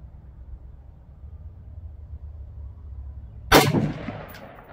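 A single AR15 rifle shot cracks out sharply near the end of a quiet outdoor stretch at a steel target range, followed by a short rolling echo.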